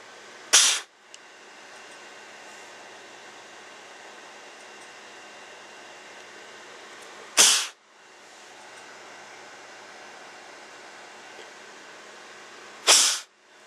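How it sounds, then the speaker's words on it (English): Compressed air blasts through the holes of an LED circuit board in three short, sharp hissing bursts, each a loud puff spaced several seconds apart over a steady background hum. "There we go, just blow those holes clean."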